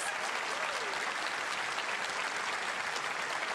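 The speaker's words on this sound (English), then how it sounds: "Definitely deserves a round of applause." Dense, steady applause from a large audience at the PAX 2024 gaming convention fills the space, sustained and even throughout with no voices standing out.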